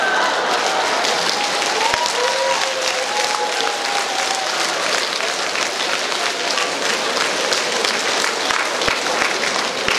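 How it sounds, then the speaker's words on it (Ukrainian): A large audience claps continuously, a dense steady roar of applause filling the whole stretch. "Це аплодують всі породисті."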